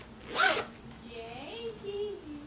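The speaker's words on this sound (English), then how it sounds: "but it zips. Watch." A zipper on a handmade fluffy bag made from a thrifted blanket is pulled in one quick close rasp, followed by light talking.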